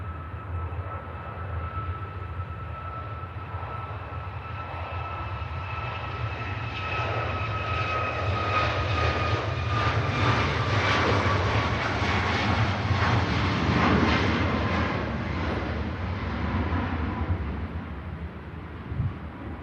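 A TUI airliner takes off and climbs steeply through blustery wind at Manchester Airport, a loud, sustained jet engine roar with a tonal whine that swells toward the middle and then slowly recedes, with wind buffeting the microphone and no voices.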